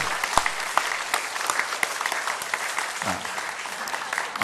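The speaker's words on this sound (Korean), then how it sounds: "우리 어린이들에게 힘차게 우리 격려의 박수를 한번 쳐주시겠습니다" A congregation at a church worship service claps steadily in encouragement for the children, a dense, even wash of many hands that holds for several seconds without pause.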